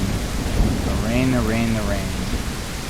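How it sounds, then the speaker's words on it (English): Steady rain with rumbling thunder fills the weather in the video game ULDOR, heard throughout at a constant level. A faint tonal sweep passes over it midway. "To not get the rain to go bye-bye."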